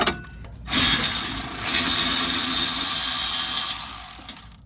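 A ratchet works the brake caliper bolts loose on a 2001 Ford Windstar during a brake pad job, a steady close mechanical whirring and grinding that runs for several seconds with no talking.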